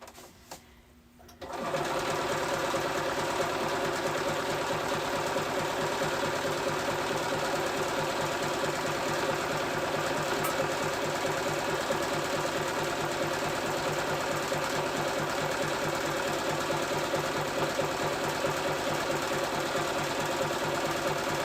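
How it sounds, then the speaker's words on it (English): A sewing machine runs a zigzag stitch along a fabric edge: after a brief quiet start it settles into a loud, steady, rapid mechanical chatter that continues unbroken at close range. "And now I'm just going to zigzag right along the edge."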